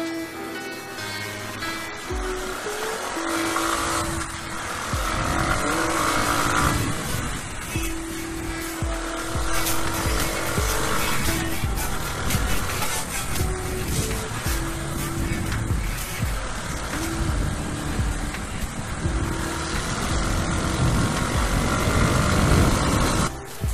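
Keeway Cafe Racer 152 motorcycle with a 16-48 sprocket setup accelerating from a standstill on a city avenue, its engine droning loud and steady with rising and shifting tones, mixed with road and wind noise throughout.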